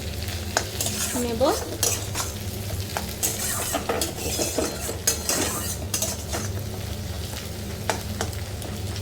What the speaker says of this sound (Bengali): আমি এবার ডিমটা দিয়ে একটু ভাজা ভাজা করে